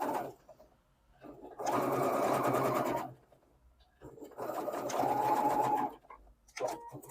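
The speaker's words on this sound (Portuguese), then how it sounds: "vamos passar uma costura reta, na diagonal" A domestic sewing machine stitches a straight diagonal seam on an English eyelet embroidered corner, running in two sustained bursts of rapid mechanical whirring separated by pauses, with a short third start at the end.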